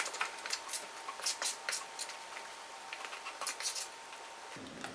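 Chocolate cake batter stirred in a bowl, a run of soft wet scraping and tapping strokes in uneven rhythm, close and quiet, with no talking.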